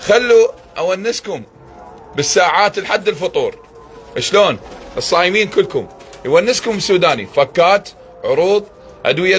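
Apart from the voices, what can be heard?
None of the usual background noises is heard.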